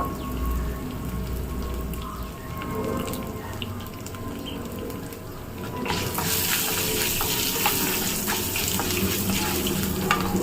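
Dried red chillies sauté in hot oil in a pan for a mudakathan-leaf chutney. A steady sizzle grows louder and brighter about halfway through, with no talking.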